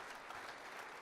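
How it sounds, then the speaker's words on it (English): Brief burst of steady crowd applause at a high school basketball awards show, a dense even patter of many hands clapping at moderate distance for the whole moment. "Round of applause, please."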